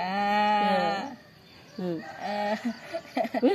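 A rooster crows loudly and close, then after a short pause gives more crowing calls followed by a few sharp clucks.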